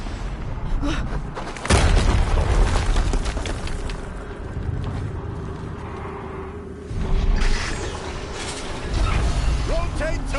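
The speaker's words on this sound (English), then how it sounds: "Another explosion." A booming explosion from the video game Horizon Zero Dawn Remastered, set among dense battle noise with mechanical rumble, a second heavy blast following a few seconds later.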